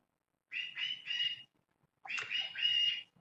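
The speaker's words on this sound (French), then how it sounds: "c'est dur d'engueuler un oiseau" Two short bursts of high, bright bird chirps, separated by a second of silence, close and clear.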